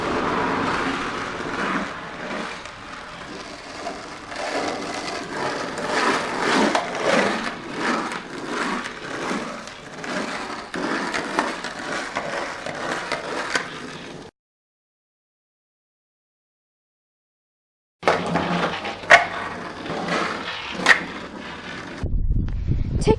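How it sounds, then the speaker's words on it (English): A skateboard tic-tacking on pavement: rapid clacking and rolling wheel grind for several seconds, a short silent gap, then a few more sharp board clacks and scrapes up close. "Now there also is another way to turn. It's called tic-tacking, which is this basically."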